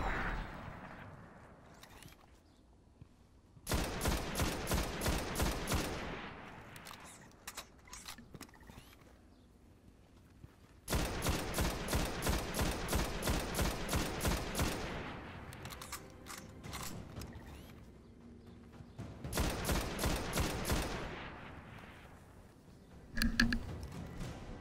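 Video game gunfire in a solo Nightfall mission, with three long sustained bursts of rapid automatic fire separated by quieter stretches of ambient game noise, loud and close.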